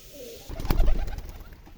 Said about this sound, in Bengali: এই তো সব রাজশাহী গিরিবাজ কবিতর নাকি?